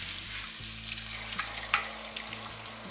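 Cooked mutton hits a hot pan and is stirred through softened onions, producing a steady close sizzle punctuated by a few sharp scrapes and clinks of the spoon, with no speech.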